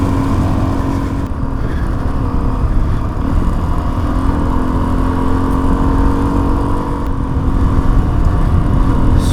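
Suzuki DRZ400 motorcycle riding over deep, coarse gravel, its engine droning steadily and loudly throughout with a continuous crunching rumble from the tyres and no pauses.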